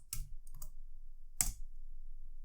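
A few short keystroke bursts on a computer keyboard while entering a quit command in a terminal FTP client: two quick taps close together, a pause, then one sharper tap, all close and fairly quiet.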